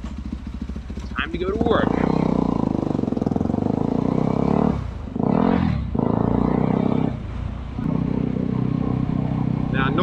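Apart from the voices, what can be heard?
motorcycle riding on a wet road in Hanoi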